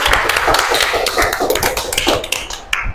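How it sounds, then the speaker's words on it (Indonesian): Classroom applause for a student group in an eighth-grade lesson, a dense burst of many hands clapping at once, loud and sustained for a few seconds before tapering off. "Tepuk tangan untuk kelompok 5"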